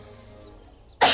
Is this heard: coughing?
yes